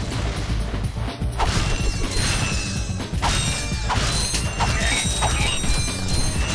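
Bomb glove attacks in Ratchet & Clank 2, with repeated crashing explosions and clanking mechanical impacts over a constant busy game soundscape, loud and close.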